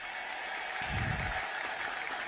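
A church congregation at a healing testimony service breaks into a brief burst of applause and praise, swelling for about a second in the middle before fading back into room noise.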